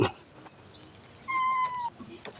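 A cat gives one clear, drawn-out meow close by, with faint household noise and a brief voice around it, outdoors at a rural home in Lampang, Thailand.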